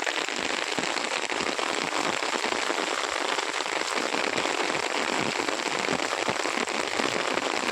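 Steady rain during the Shravan monsoon falls in a dense, continuous hiss of drops striking surfaces, loud and close throughout, with no voices.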